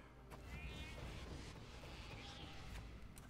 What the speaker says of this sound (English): so let's replay the cat